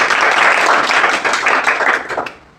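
An audience at a motivational talk claps together in a dense, steady burst of applause for about two seconds before it quickly dies away.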